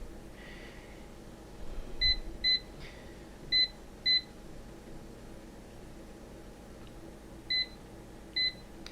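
Short electronic beeps from an air fryer's control panel buttons, a pair near two seconds, another pair around three and a half to four seconds, then two more isolated beeps later, each crisp and close over a low steady hum.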